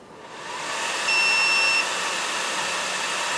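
An Atomstack X20 Pro laser engraver powers on, its fan noise swelling into a steady broadband whoosh while a short high electronic beep rings out near the start.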